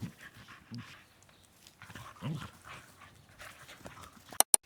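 Dogs play-fight close by, with soft growls, panting and scuffling, then a couple of sharp bright clicks at the end.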